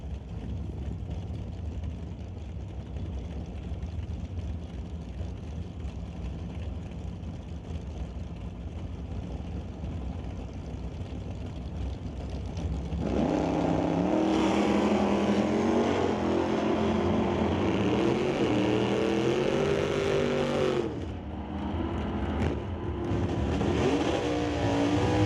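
A green Chevrolet Malibu drag car at an NHRA test-and-tune session launches down the track: a distant rumble swells into a loud, sustained engine roar, briefly dips as it shifts, then roars on.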